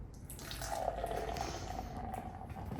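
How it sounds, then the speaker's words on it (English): Mexican lager with lime pours steadily into a glass, a continuous close liquid rush and fizz lasting a few seconds with no talking. "show you how to pour a good beer, good foam"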